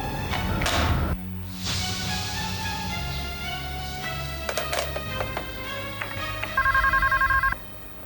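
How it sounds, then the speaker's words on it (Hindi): A telephone rings in a home during a Hindi TV drama, with electronic ringing tones and a few thumps and taps around them, ending in a louder repeated ring burst. "अभी सुषमा का फोन आया था।"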